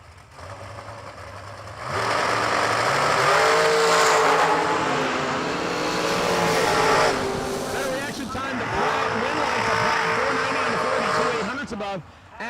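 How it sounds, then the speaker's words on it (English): Two dragsters launch side by side at a drag-racing event, a loud engine roar that swells and stays strong for several seconds, with an announcer talking over the noise. "the dragsters, Ashley Allen and John Platt Jr. will get us started"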